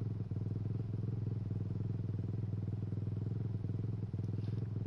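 Steady, throaty engine drone of a four-wheeler ATV in MX vs ATV Supercross Encore, holding an even rev with a fast pulsing putter throughout and no clear throttle changes.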